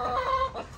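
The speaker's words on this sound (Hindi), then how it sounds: "हमारे मुर्गा मुर्गी देखें कितने फ्रेश होके बाहर निकल गए हैं" Chickens clucking in a farm coop, a brief close burst of two or three throaty clucks with no talking over them.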